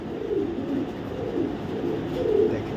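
Red checker racer male pigeon of original Python bloodline, a 2022 club bird, giving low steady cooing that murmurs on without pause at close range, with no voices over it.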